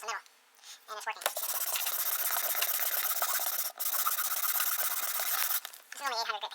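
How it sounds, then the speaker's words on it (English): Hand sanding with 800 grit sandpaper produces a continuous fast rasping scrub, close and steady for several seconds with a brief break, while a person talks before and after the strokes. "This is only 800 grit paper, so that's perfect."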